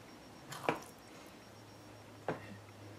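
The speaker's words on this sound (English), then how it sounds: "so I'm just gonna serve it" Tomato stew spooned onto rice, heard as two soft, wet squelching plops about a second and a half apart, close and faint against a quiet room.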